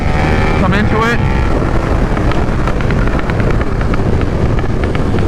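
A 2022 KTM 1290 Super Duke R engine rises steadily and loudly while the bike is opened up out of a turn, heavily buffeted by wind noise, with a rider speaking over it.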